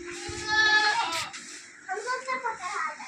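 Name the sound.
goat bleating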